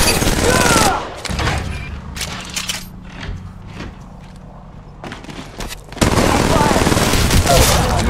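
Rapid gunfire bursts in the Apex Legends Mobile game, loud bursts at the start and again from six seconds, with quieter shots and game effects between and a player's voice talking over the fight.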